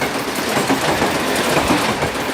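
A train rumbles past close by, a steady, loud broadband roar with faint clickety-clack from the wheels on the rails throughout, and no voices.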